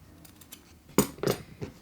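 Scissors snip through the fabric corner of a sewn bag panel with side gussets, giving two or three close, crisp cuts after a few faint handling clicks.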